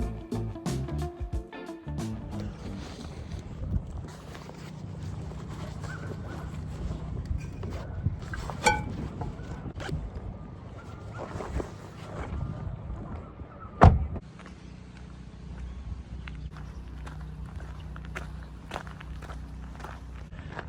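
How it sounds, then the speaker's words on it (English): Footsteps crunch steadily along a hiking trail, close and moderately quiet, with faint rustling of clothing and light wind; one sharper knock stands out midway. "Now that sounds like a hiking trail."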